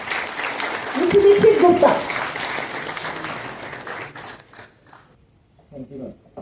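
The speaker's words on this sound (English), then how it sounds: "Please give a big round of applause and welcome sir on the stage." A university audience at a GATE awareness session applauds as a speaker is welcomed onto the stage, with the clapping loud at first and then thinning and fading away, while someone speaks over it briefly and a few voices follow near the end.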